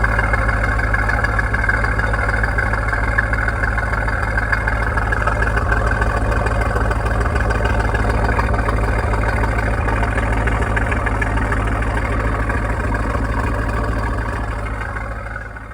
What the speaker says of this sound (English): let's have a listen to the idle.